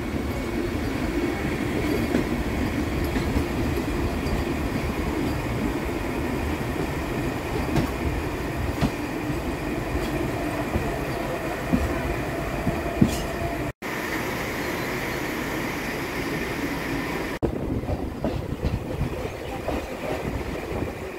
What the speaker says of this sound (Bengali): আর আমাদের ট্রেন হাওড়া স্টেশন ছেড়ে দিল।